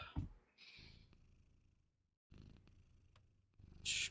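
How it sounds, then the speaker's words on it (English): A cat purring right into a microphone, a low rumbling close purr that comes in two stretches separated by a short pause, with faint noises around it. "are you purring into the mic?"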